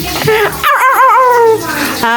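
A dog whines and yips up close in high, wavering whimpers, with a short yelp at the end.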